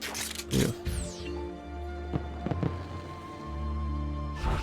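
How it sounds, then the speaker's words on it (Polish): Video game fireworks in Assassin's Creed II pop and crackle in sharp bursts over a steady electronic hum, with a whistling rise near the start. "Fajerwerki."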